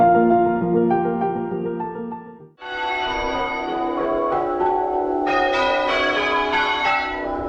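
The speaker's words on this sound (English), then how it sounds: "I'm not sure if you can hear me over the bells" Church bells ring loudly and continuously in Faversham, England, overlapping tones layering into a dense peal with no voices.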